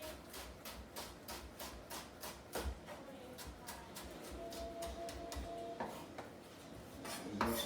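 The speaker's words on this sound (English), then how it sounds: "Just going to mince it up real quick. A half a shallot should be more than enough for this. And just going to run our knives right through it." A half shallot minced with a kitchen knife on a cutting board, giving a steady run of quick, close, sharp taps that occasionally bunch together, with one stronger thud partway through and a heavier hit at the end.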